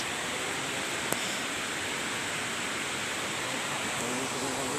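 Steady, full-band rush of falling water at Mantayopan Falls in Barili, Cebu, constant and enveloping from start to finish, with one faint click near the beginning.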